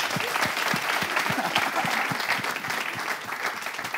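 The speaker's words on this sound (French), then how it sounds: "On va applaudir pour ça." Audience applause at a live debrief show, a full room clapping continuously and fairly close, with steady, even hand claps across the whole stretch.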